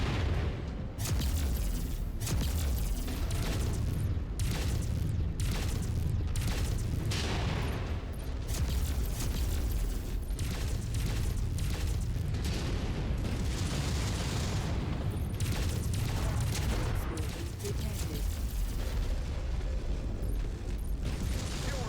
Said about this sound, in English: Explosion detected.